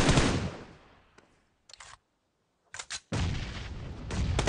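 Grenade blast in a battle royale shooter, a loud booming explosion that fades out, a few sharp cracking shots in the quiet gap, then another heavy roaring burst that keeps going to the end.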